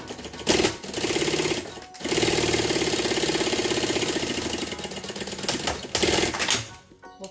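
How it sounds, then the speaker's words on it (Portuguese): A sewing machine runs a presser-foot seam along the edge of laminated fabric, with long, steady bursts of rapid, close whirring stitches separated by short pauses. "A gente vai passar um pé de máquina."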